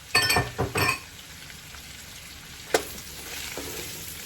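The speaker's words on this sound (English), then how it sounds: "The onions are going in." Onions dropped into a gumbo pot for beef and shrimp gumbo stew give two quick bursts of sizzle and rustle, then settle into a faint steady fry with a single sharp clink partway through.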